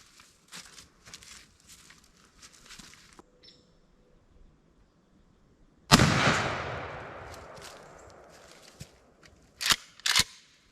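A 20-gauge shotgun firing a Nitro Turkey load through a Headhunter .555 turkey choke at an outdoor range, one loud, sharp blast with a long decaying rumble, followed by a few faint clicks and rustles.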